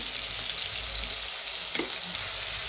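Tomatoes and onion greens frying in a pan for a Marathi vegetable garagata dish, a steady close sizzle and crackle that runs without a break, with a brief stir or scrape partway through.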